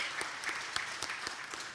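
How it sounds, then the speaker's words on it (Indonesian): A room of listeners claps steadily in an audience's applause for a speaker at a corporate talk event, fairly distant and dense, with no voices over it. "tepuk tangan dong buat Pak Erick Thohir."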